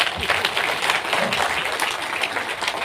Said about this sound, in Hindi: इन्हीं शब्दों के साथ तालियां आपने बहुत बजाई हैं